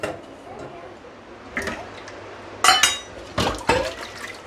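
Dishes and a saucepan clink and knock as they are placed into an IFB VXPlus15 dishwasher: a few sharp, close rattles, with a burst near the end and quiet room noise in between.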